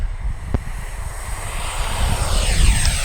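Arrows F-15 Eagle 64mm twin-EDF radio-controlled jet on its takeoff run with no flaps, a steady loud turbine-like whine and rushing roar that swells toward the end as it accelerates down the runway.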